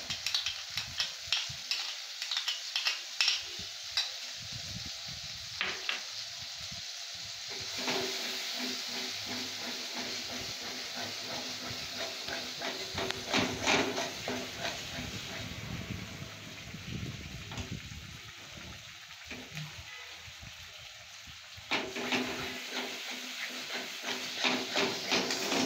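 Ginger garlic paste fries with shrimp in a pan, giving a constant soft sizzle and hiss with intermittent scraping and stirring sounds, close but fairly quiet, with no talking.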